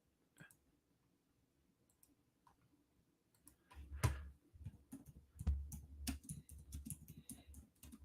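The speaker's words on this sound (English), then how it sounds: "I'm still typing in DMs" Typing on a computer keyboard, sparse clicks at first that build into rapid, busy key tapping in the second half, close and fairly quiet.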